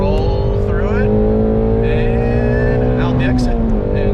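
A Ford Mustang GT350 pulls hard in third gear from around 4,000 RPM, its loud, close engine drone climbing steadily in pitch over a constant roar of road and exhaust noise.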